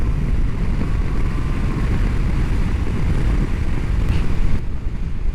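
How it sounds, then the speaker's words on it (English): Constant loud, low roaring wind buffeting while riding a 2025 Triumph Tiger Sport 800 motorcycle, a dense rumble around the helmet that holds steady throughout with slight surges near the end. "I don't think I could put up with that wind noise."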